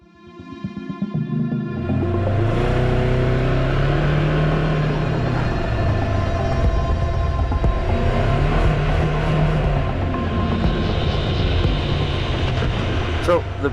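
A Polaris Xpedition UTV pulls away with a loud, steady engine rumble that rises and holds near, with gear-like shifts in pitch and voices talking over it.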